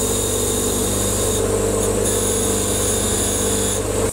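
A wire wheel on a power tool buffs rust off cast antique stamp carousel parts in a home workshop, giving a steady, loud, close whirring grind with a constant high hiss that runs unbroken throughout.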